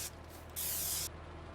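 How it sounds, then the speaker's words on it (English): A single short hiss of spray paint marking a tree in Farming Simulator 19, a half-second burst over a quiet low background hum. "So let me go ahead and spray paint that."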